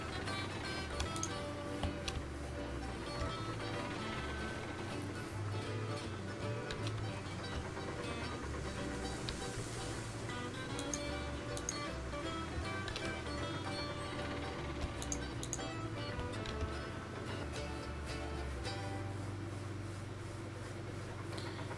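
Mechanical clanking, ratcheting and ticking from log-loading cranes in the railroad game RailRoads Online, dense and steady throughout at a constant close level, with no talking.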